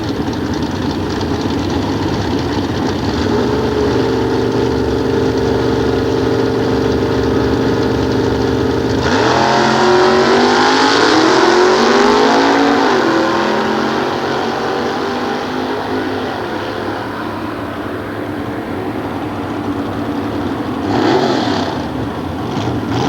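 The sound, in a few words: nostalgia drag racing hot rod cars at Sears Point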